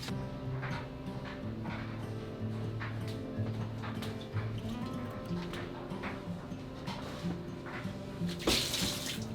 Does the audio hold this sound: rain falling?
no